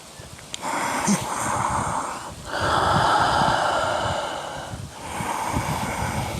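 Slow, heavy yoga exhalations during a downward dog pose, long airy breaths rising and falling in two or three sustained waves, close and fairly loud with no talking.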